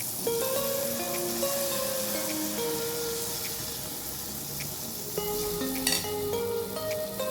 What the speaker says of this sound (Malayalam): നമ്മളെ വാഴക്കപ്പത്തിരി കണ്ടില്ല എണ്ണയിലിട്ട് ഇങ്ങനെ തിളച്ചോണ്ട് നിൽക്കുന്നു